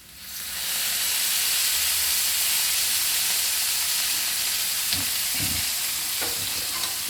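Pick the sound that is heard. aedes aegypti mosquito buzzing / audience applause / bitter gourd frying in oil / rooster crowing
bitter gourd frying in oil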